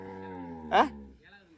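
A cow at a cattle farm gives a long, close, loud moo, with a short rasping break in the middle and a softer tail at the end.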